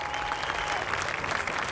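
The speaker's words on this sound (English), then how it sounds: "Round of applause." A live comedy-show audience breaks into short, dense applause, a steady wash of clapping at even volume for under two seconds with no one talking over it.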